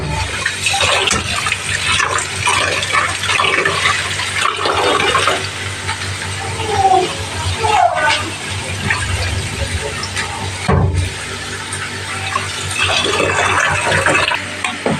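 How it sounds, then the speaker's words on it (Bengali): Rice is washed by hand in water in a home kitchen, with splashing, swishing and pouring sounds coming in uneven bursts, close and moderately loud over a steady low background hum. "আর এখানে দেখো চাউলটা ধুয়ে নিচ্ছি"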